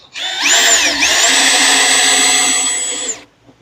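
A Ryobi cordless drill drives construction screws at a slow speed setting, its motor whine rising and then holding steady for about three seconds before it stops. The drill is loud and close, with no talking.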